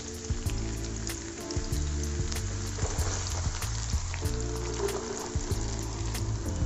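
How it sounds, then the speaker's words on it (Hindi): Chopped onions sizzle and fry in hot cooking oil in a non-stick pan for an egg bhurji, a steady close crackling hiss with a faint rhythmic tick running over it. "जैसे ही कुकिंग ऑयल गर्म हो जाए तो हम इसमें डाल देंगे प्याज"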